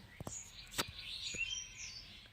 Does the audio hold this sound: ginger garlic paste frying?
no